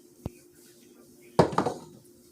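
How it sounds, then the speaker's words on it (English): A ladle is pulled out while making a turkey, gravy and stuffing casserole bake; a single sharp metal tap comes first, then a louder burst of clattering utensils and dishes, close by and with no talking. "got to get out the ladle"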